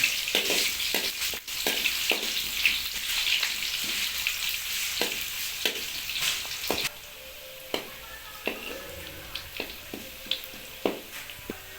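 Chopped onions and green chillies sizzle in hot oil, a bright steady frying hiss broken by repeated soft stirring scrapes and taps that continue as the sizzle eases later on.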